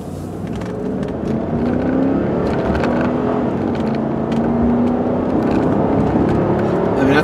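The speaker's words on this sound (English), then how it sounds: "This car gets up and moves." A 1999 Cadillac Seville STS with a front-wheel-drive V8 and four-speed automatic accelerates hard from inside the car, the engine droning up steadily and loudly through the gears as road noise builds.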